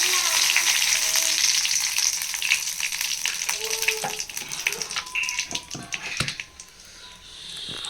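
Fennel seeds and curry leaves sizzle and crackle in hot frying oil, a bright steady hiss with scattered pops that gradually quiets toward the end.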